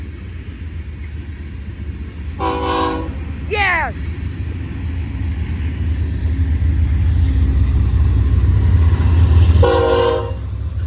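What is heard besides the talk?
freight trains passing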